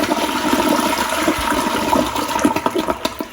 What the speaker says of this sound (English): Let's try to flush it.